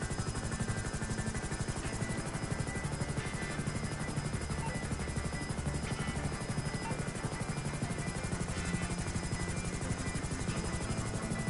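A Hunter attack helicopter in GTA Online flying steadily, its rotor chopping in a continuous close, even drone with no talk over it.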